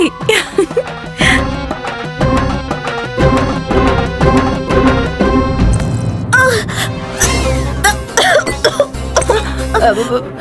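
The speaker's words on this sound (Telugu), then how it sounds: "మీకు దగ్గు కూడా ఉందా" Several coughs and throat-clearing bursts come amid background music, with a voice speaking in between.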